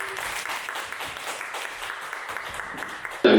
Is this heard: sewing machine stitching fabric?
no